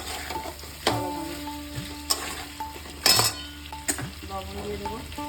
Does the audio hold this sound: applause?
no